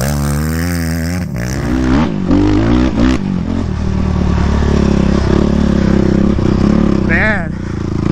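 A custom Yamaha YFZ450R ATV engine while riding, loud and close, with rising and falling revs, rattles and clatter over a constant roar, and a voice partly over it.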